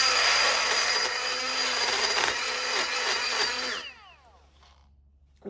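A power tool spins a rotary burr lubricated with wax and cuts hard with a loud, gritty grinding whine for about four seconds. The motor then cuts off and winds down with a falling tone.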